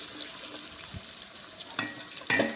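Onions frying in hot oil for a tempering, made for a cashew paneer masala curry: a steady, close hiss of sizzling with a few soft clinks near the end and no talk.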